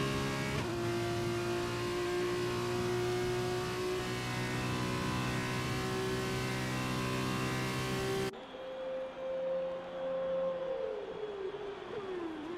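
Simulated race car engines from an F2 racing video game at the Chinese Grand Prix, cars on out laps: a loud, steady high engine drone with harmonic whine, then a quieter single engine tone that slides downward as it decelerates.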